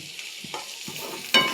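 A wooden spatula stirs potatoes frying in a pan with spices and salt, giving soft scraping strokes over a steady sizzle, with a louder burst of sizzling near the end; close and fairly quiet, no talking.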